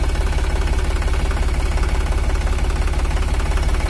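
An Iseki NT540F tractor's diesel engine idling, a loud, close, steady rhythmic chugging with an even metallic knock and vibration throughout, no voices over it.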